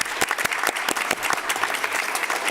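An audience applauds at a political event, a dense burst of close clapping that holds steady throughout.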